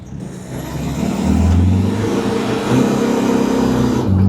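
A car with a diesel engine accelerates steadily, the low drone rising and holding loud throughout, with no voices.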